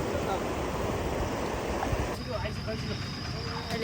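River water rushing steadily close by, a broad continuous wash that shifts slightly in tone partway through.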